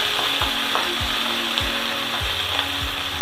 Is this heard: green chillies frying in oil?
yes